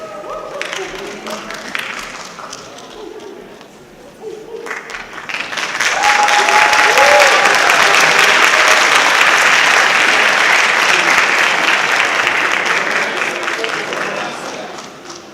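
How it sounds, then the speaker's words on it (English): At a high school senior awards night, a voice speaks over light clapping, then a crowd breaks into loud, sustained applause that swells and slowly tapers off. "Let's give them one more round of applause."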